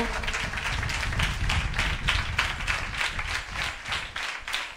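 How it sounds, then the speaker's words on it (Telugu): Church congregation applauding loudly, a dense, sustained burst of many hands clapping together, close and continuous with no speech over it. "చప్పట్లు కొట్టండి గట్టిగాను"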